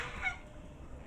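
Geese give a brief honk near the start of the moment, a close, raspy call over a low background rustle.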